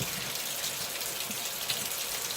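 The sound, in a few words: hot water running while cleaning a Keurig coffee machine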